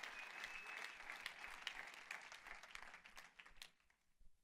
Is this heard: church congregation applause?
yes